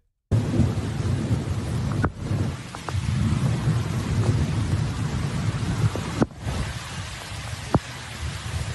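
Thunder rumbles through a steady downpour of rain in a storm, with a couple of sharp cracks standing out above the continuous roar, fairly close and loud with no voices.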